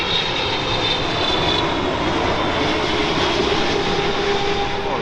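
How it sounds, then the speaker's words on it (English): Boeing 777-300 jet arriving at London Heathrow from Kuwait City, its engines a loud, steady roar with a thin high whine throughout, close overhead and alone. "Boeing 777-300 coming in from Kuwait City."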